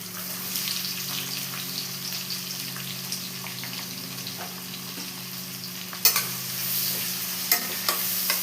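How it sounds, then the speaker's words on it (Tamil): Steady sizzling of chopped onions frying in hot oil for mutton biryani, with occasional stirring scrapes and crackles, close up and continuous. "வெங்காயம் வந்து நல்லா பொன்னிறமாக வதங்கணும்."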